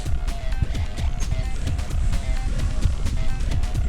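Old lawn mower engine, its throttle cable repaired with stainless steel hose clamps, runs at a steady, rough idle with a dense pulsing chug throughout, loud and close, no talk.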